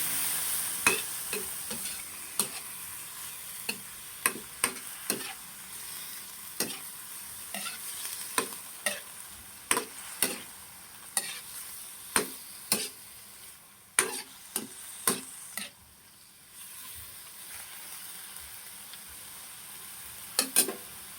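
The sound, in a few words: stirring gizzard frying with garlic, onion and ginger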